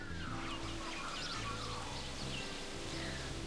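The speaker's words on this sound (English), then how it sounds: "It sounds like I'm outside. That bird, oh my gosh." A bird chirps outdoors in short, bright calls that repeat every second or so, fairly faint over a steady background hum.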